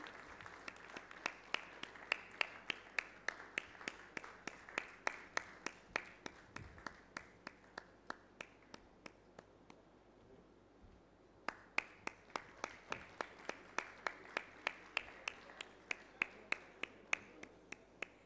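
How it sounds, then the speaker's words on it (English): Sparse, slow clapping from a small audience at a national mining ministers' conference, single claps spaced out in a steady rhythm and fairly faint, pausing briefly near the middle before resuming. "again with a big round of applause, let's invite Madhya Pradesh"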